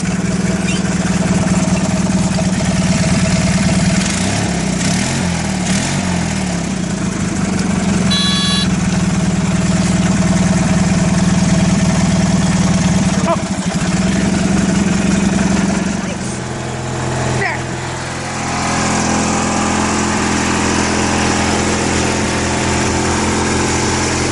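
A small tractor with a three-point hitch and a work light runs steadily in a loud engine idle, its hum continuing throughout with a brief change in pitch near the end while people talk nearby.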